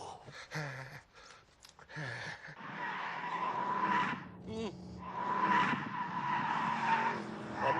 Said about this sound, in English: Let's do a little cheeky drift